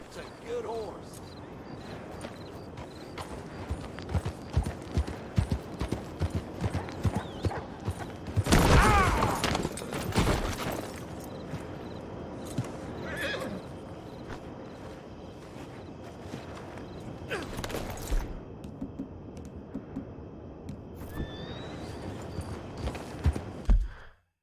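Horse hooves clip-clop steadily in the video game Red Dead Redemption 2, with occasional neighing and snorting bursts, mixed with mechanical rattles and spoken dialogue.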